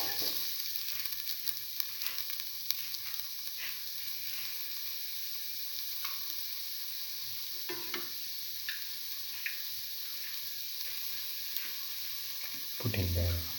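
Ingredients for a garlic mung bean tamarind dish sizzle steadily in a hot pan, a continuous frying hiss broken by occasional stirring clicks and scrapes, with a louder stir near the end.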